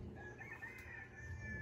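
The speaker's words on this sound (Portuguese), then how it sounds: "Barulho de galo, né?" A rooster crows faintly and far off at a waterfowl breeding farm before dawn, its drawn-out call sitting low under a steady mechanical hum.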